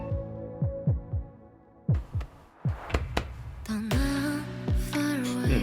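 A muffled, soft-edged drum beat in a K-pop soundtrack, mixed to mimic a heartbeat: paired thumps at a steady pace, joined partway through by sustained synth and melodic tones.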